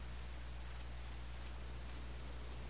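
Rain in the video game Metal Gear Solid: Peace Walker, a steady, even hiss of falling rain over a constant low hum, unbroken and without voices.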